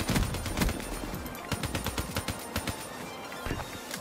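Gunfire in Call of Duty Black Ops 3 on PC from a slow-firing weapon: a steady run of sharp, evenly spaced shots, loud and close, with heavier blasts at the start and no talk over it.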